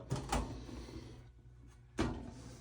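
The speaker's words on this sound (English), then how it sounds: "let me open the door and show you" A metal door on an Eaton generator panel mounted outside a house swings open, with a couple of sharp clunks and rattles early on and another solid latch-like knock near the end, close up.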